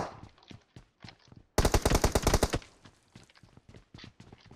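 Rapid automatic gunfire in the mobile shooter PUBG Mobile, a loud, close burst of about a second of quick repeated shots, framed by fainter single shots and footsteps before and after.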